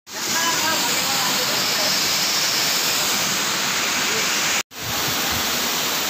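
Waterfall at Dona Remedios Trinidad, Bulacan, a dense, loud, continuous rushing roar of falling water close by, broken once by a brief cut before resuming.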